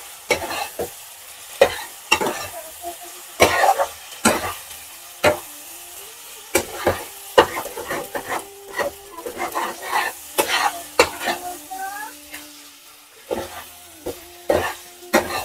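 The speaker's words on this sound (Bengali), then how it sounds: "দিয়ে দিলাম, এটা এবার একটু ভালো করে একটু কষিয়ে নিব।" Egg, snail meat and vegetables stir-fry in a pan in a village kitchen, a low sizzle under repeated clattering scrapes and knocks of the spatula, with intermittent pauses between strokes.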